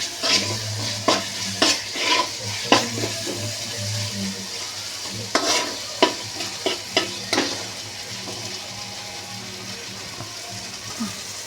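Chicken curry ingredients stir-fried in a pan over a steady low sizzle, with a run of sharp spatula scrapes and clacks in the first seven seconds, then quieter frying toward the end.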